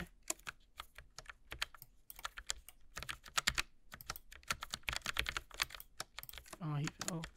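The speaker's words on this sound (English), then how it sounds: "Sound of the keyboard, it sounds really good." Keys on a Logitech mechanical mini keyboard clatter in quick bursts and pauses during Clustertruck gameplay, close and crisp, with a voice speaking briefly near the end.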